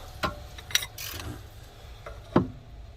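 Ratchet clicks in short bursts while loosening the bottom shock bolt on an Acura TSX during a coilover install, a few sharp close mechanical ticks with quiet gaps between them.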